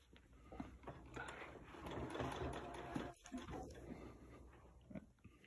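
A sewing machine stitching a homemade fabric mask runs with a steady mechanical whir and rapid needle chatter, fairly close and quiet, with a brief pause midway and no talking.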